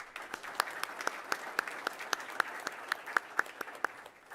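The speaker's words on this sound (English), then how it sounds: "let's give our boys IVL champs another big round of applause, please" A school board meeting crowd applauds the school's boys' sports champions with a modest round of clapping, the individual claps distinct and fairly rhythmic, moderately faint in a room.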